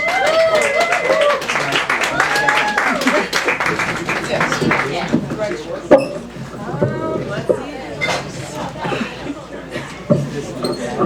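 An open mic audience claps and cheers for a songwriter-musician being introduced, steady applause running throughout with chatter, laughter and voices mixed in close by.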